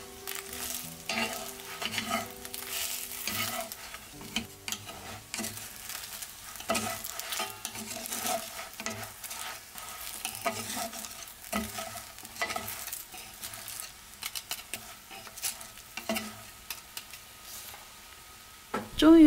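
Scallion pancakes sizzle and fry steadily in a pan while being flipped and pressed, with soft utensil scrapes and taps over a continuous close crackle; faint talk in the background.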